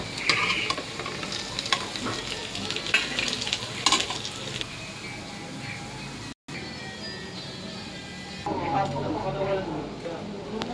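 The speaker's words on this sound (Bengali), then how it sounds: "তো উল্টে পাল্টে এবার ভালো করে ভেজে নেব" Masoor dal fritters frying in oil in a pan, a loud close sizzle with crackles and scraping as they are turned, a brief gap midway, while someone talks over it.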